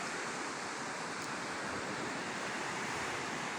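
Ocean waves break on the shore as a continuous broad rushing wash, fairly faint and steady with no distinct individual crashes and no talk.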